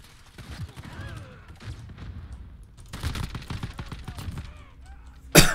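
Rapid gunfire in PUBG, shots tearing through wooden boxes, heard as scattered bursts of close shots with talk in between and a sharp loud crack near the end.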